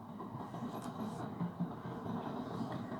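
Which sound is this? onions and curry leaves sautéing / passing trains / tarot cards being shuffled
passing trains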